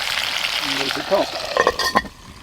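Potatoes, onion and garlic sizzling in a pan in a hot tent in a snowy winter woodland, a steady fry with stirring scrapes and a few sharp clinks, and a brief voice partway through.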